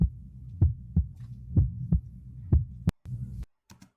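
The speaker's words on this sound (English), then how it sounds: "This is kind of like a little heartbeat" A heartbeat sound effect laid into a hip-hop beat for a track, with soft paired thumps repeating at a steady pulse before a brief dropout and a few scattered hits near the end.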